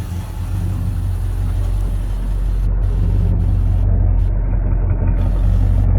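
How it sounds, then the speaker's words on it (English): A vehicle engine idles steadily with a deep, low exhaust rumble, close by and continuous without any talking. "Did like the sound of the exhaust in this thing."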